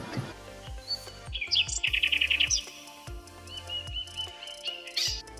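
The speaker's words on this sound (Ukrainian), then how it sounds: "Так, це спів пташок" Birds sing in a forest: clear repeated high chirps and trills, a rapid run of bright notes midway, with a faint musical background underneath and no talking.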